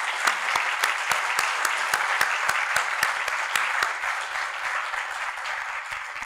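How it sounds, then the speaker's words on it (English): A crowd at a high school athletic Hall of Fame ceremony in Fairmont applauds steadily for honorees, a dense even wash of clapping with a few sharper individual claps standing out, holding strong before easing slightly toward the end. "Let's have a great round of applause for these Hall of Famers."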